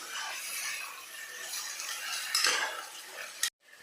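Chicken being stirred in a pot for curry: a metal spoon scrapes and clinks steadily against the vessel, close and fairly quiet, ending in a sharp clank before silence.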